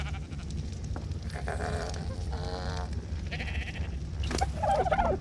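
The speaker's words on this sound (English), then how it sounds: "And here's another sheep." Sheep in ARK: Survival Evolved bleat several times in quick succession, close and fairly loud, with a steady low hum of game ambience underneath.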